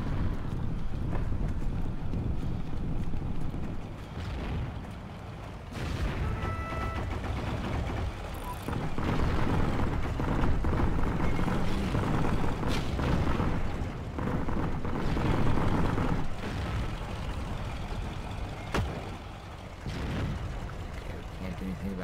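Tank cannon fire and explosions from a Panzer in a shooter video game, heard as several dull booming blasts at intervals over steady rumbling background noise.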